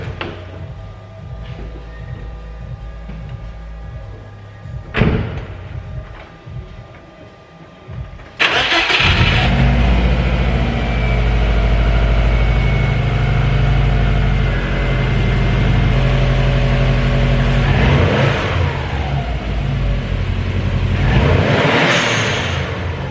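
A Subaru WRX with an HKS blow-off valve cranks after some faint clicks, fires up loudly, and then idles steadily and close by, with a brief flare of revs along the way.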